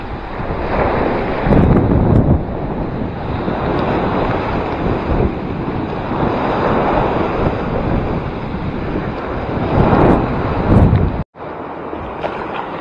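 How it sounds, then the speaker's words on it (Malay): Strong wind roars across the microphone over crashing waves at sea during kayak fishing in rain, a constant loud rush with surges, cutting out briefly near the end. "Ombak pecah tengah laut tu. Memang tak boleh nak turun dah. Ha hujan pula tu, angin dengan angin kuat"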